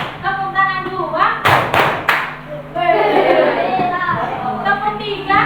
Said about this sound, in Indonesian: Tepuk tangan satu, tepuk tangan dua